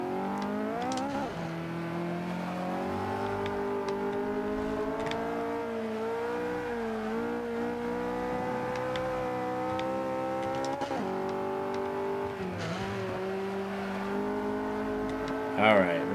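A car in the racing game Forza 5 drives and corners with a steady engine drone, its pitch rising and falling as it accelerates and brakes through turns. A few brief tire noises come through near the end.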